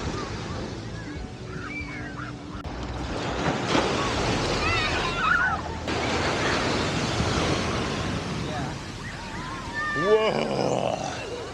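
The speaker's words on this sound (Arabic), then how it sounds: "وهو ده شط لاجونا بيتش" Ocean surf at Laguna Beach washes in steadily, a continuous close roar of breaking waves mixed with gusty wind buffeting the microphone and faint voices in the background.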